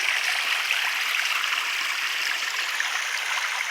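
Water splashing and rushing over rocks in a natural pond build, a steady, dense wash of spray heard close and continuous without pause.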